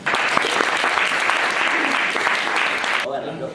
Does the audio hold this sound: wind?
no